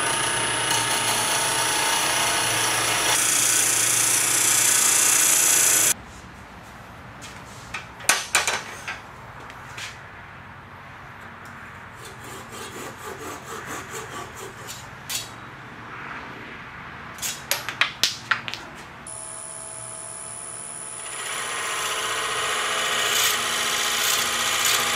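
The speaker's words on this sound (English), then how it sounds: "Let's get back to the lathe and make a few more." Wood lathe turning wooden spindles for a box, with a loud steady whirring cut at the start and end, and a quieter middle stretch of scattered clicks, taps and scraping.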